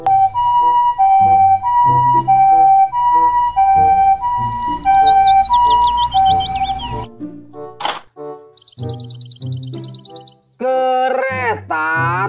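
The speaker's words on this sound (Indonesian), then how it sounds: "Mobil ambulans." Toy ambulance siren cycling a loud electronic two-tone wail, with interleaved synthesized barking and chirps, then short bursts of effect tones toward the end.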